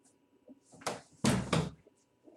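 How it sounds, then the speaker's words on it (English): An indoor door to another room is pushed shut, giving a soft bump followed by two heavier thuds as it latches, close by and with no speech. "shut the door"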